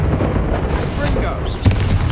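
Confringo blasting spell explosions in the video game Hogwarts Legacy, a loud, dense rumble of booming blasts with a sharper burst near the end, while a voice talks over the noise.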